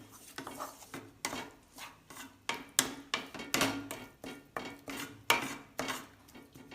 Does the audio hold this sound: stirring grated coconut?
yes